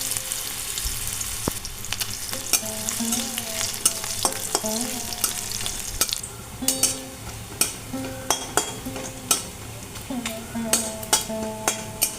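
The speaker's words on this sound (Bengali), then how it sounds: "নারকেলটা প্রথমে ভেজে নেব।" Small cut coconut pieces frying in mustard oil in a kadai, a continuous sizzle broken by regular sharp scrapes and clinks of a spoon stirring against the pan, close by with no talk.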